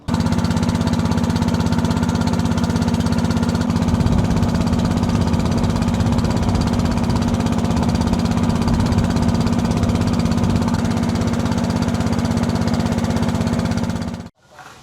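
A loud, steady boat engine drones and rumbles continuously at close range on a crossing to Don Det island in Laos, then cuts off abruptly near the end.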